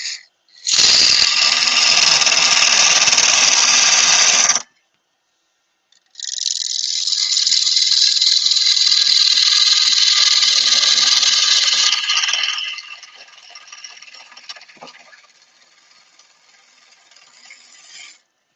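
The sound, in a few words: wood lathe turning a wooden mushroom with a chisel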